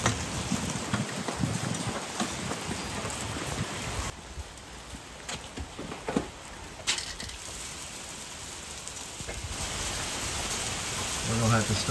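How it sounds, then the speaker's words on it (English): Steady rain with harder icy pellets mixed in, a dense continuous hiss and patter that eases briefly midway before picking up again. "It's a little bit of rain and hail mixed in."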